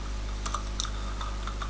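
Keys tapped on a computer keyboard in a few light, irregular clicks over a steady low hum, quiet and close.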